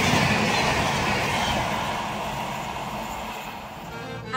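An Adra–Asansol train at the Muradi station platform produces a loud, continuous rumble with rattling noise that eases slightly as it goes on, with no voices.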